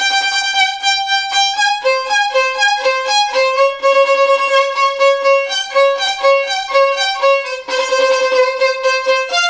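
Solo violin playing the Winter theme from the first movement of Vivaldi's Four Seasons, a brisk melody of quick repeated notes and shifting pitches, loud, close and continuous with no voices.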